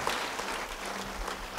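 Applause from a church congregation during an Indonesian sermon fills the room with a steady, dense patter of clapping, moderately loud and continuous throughout, with no talk over it.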